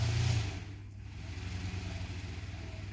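A small DC fan motor slowed by a spring resistor, running with a steady low hum that dips briefly and then settles, close by and with no talk.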